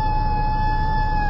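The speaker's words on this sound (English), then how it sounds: "That's a self-timer sound." Canon PowerShot S5 digital camera self-timer gives a steady, loud electronic tone that holds unbroken at one pitch, with no talking.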